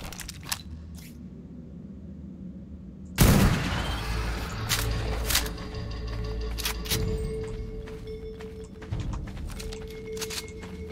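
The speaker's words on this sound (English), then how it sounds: "You gotta love the shotgun." Shotgun blasts in a first-person video game: a quiet stretch, then a sudden loud boom followed by several sharp shots spaced a second or two apart, with clicks of reloading and a rumbling background between them.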